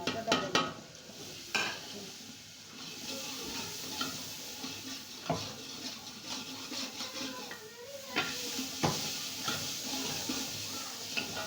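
Tomatoes tossed into a hot frying pan for a kadhi pakora dish, sizzling steadily while a utensil stirs and scrapes against the pan in repeated clattering strokes, close and moderately loud.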